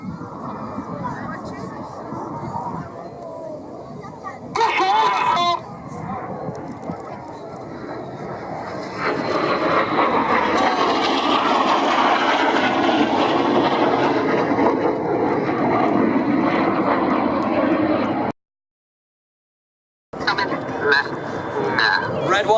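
Aerobatic display jets of a synchro pair roar overhead at an airshow, a loud swelling, rumbling jet noise that rises and lingers, with a commentator talking and a brief dropout near the end.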